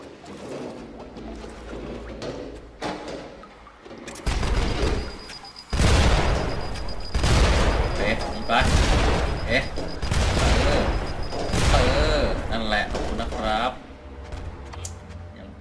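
Loud bursts of explosions and rapid gunfire in the video game Badland, several heavy booms in a row with a voice talking over the action.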